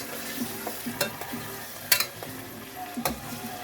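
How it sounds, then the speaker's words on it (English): Food frying and being stirred in a pan for bean stew, with a steady soft sizzle and intermittent scraping clicks of a utensil, close and fairly quiet, no talking. "as we fry these"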